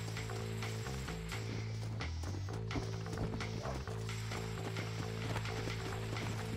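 Horse hooves clip-clopping steadily in Red Dead Redemption, a close, continuous trot running over a droning game score with scattered sharp effects, and no talk.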